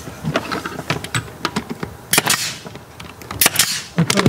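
A staple gun drives small staples into a glued wooden nuc box, giving sharp snapping clacks scattered among rattling workshop handling noises, with two loud bursts standing out.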